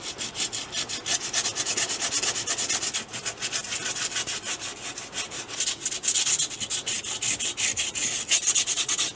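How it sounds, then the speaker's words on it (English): Steady, continuous abrasive rubbing of sandpaper on a boat's hard gel coat, close and fairly loud, with rhythmic back-and-forth strokes and no talking. "The reason I'm sanding it is I want to break up any of the shininess of the"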